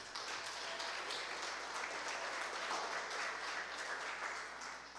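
Congregation applauding during a church sermon, a dense, even wash of clapping heard from a distance and fairly quiet, sustained throughout with no voices on top.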